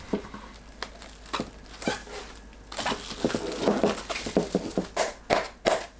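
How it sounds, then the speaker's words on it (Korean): Plastic wrap crinkles and crackles in short bursts, growing busier and louder toward the end as it is stretched and pressed over a microwave-safe bowl. "전자레인지 사용 가능한 그릇에 담고 랩을 씌웁니다."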